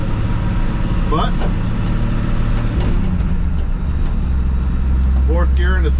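A 1968 Chevrolet C10 truck drives in fourth gear at about 30 mph on a city block, its low engine drone steady and close while someone talks over it.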